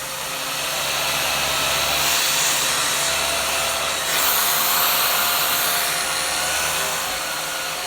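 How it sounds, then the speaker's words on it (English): Dyson DC39 canister vacuum cleaner with an air-driven head, running steadily with a loud, broad whooshing roar and high whine, close and continuous throughout. "Dyson DC39 canister with air-driven head. Let's try it."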